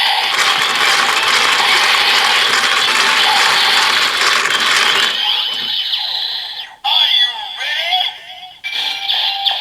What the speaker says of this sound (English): so we'll turn the crank for the transformation